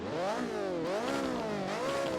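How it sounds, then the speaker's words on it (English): Naturally aspirated 500-horsepower racing V8 Chevrolet in a driving game, revving hard in repeated rising and falling sweeps, loud and close, with no talk over it. "powering this baby is a racing V8, which is also naturally aspirated, making 500 horsepower"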